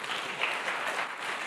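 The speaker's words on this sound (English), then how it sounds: "let's give a round of applause for the legendary Ed Boyden" Audience at a decentralized science conference applauding a guest speaker, a dense, even burst of many hands clapping, fairly loud and continuous across its short span with no voices.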